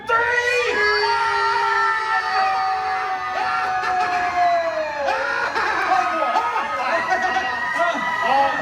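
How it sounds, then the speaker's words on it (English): A crowd of riders on a Universal Studios theme park ride screams together loudly at close range, then trails off into scattered shrieks, laughter and chatter. "Everybody scream with her on the count of 3."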